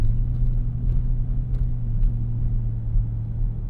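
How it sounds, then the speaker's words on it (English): A 2024 Ford F150 Raptor R truck rolls over a rough, broken road, a steady low rumble of engine and tires with a few faint knocks from the bumpy surface. "I'm gonna drive into the messed up road."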